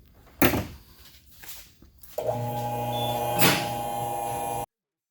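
A car lift raising a 2016 Mustang GT: a sharp thump, then a steady, loud electric motor hum that runs for a couple of seconds and cuts off abruptly.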